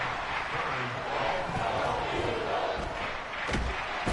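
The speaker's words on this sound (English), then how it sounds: "This crowd turning up the decibel level." A football stadium crowd roars at an NFL game between the Bills and the Eagles, a dense, sustained wall of noise under a commentator's voice.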